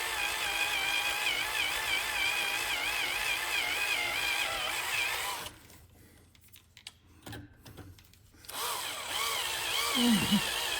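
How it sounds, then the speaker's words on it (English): An electric drill bores a hole in the inside door latch of a 1961-66 Thunderbird, running as a steady whine, stopping for a few seconds with small clicks, then starting again close by. "I put a little dimple, you know, so I could drill the right hole"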